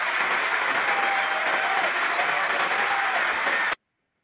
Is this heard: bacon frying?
no